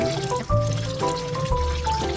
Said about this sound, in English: You might want to keep the water on.